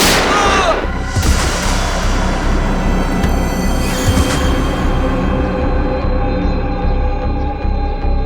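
Gunfire amid a dense, loud, continuous chaotic mix, with a sharp bang near the start and further thumps and bursts under a constant roar, in a tense armed standoff.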